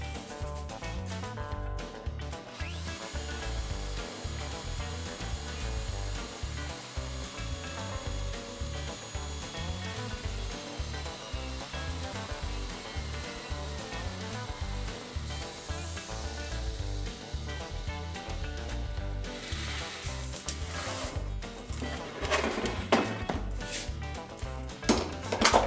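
A plunge router fitted in a woodturner's fluting jig cutting flute slots into wood, giving a loud steady whirring with rhythmic pulsing and scraping texture throughout, without talk.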